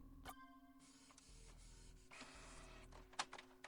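In a video game, a printer hums and whirs steadily over several seconds, its mechanism shifting pitch partway through, then gives a brief sharp click and rattle at the end; no voices.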